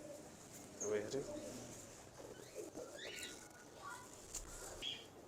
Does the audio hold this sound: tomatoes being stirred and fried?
no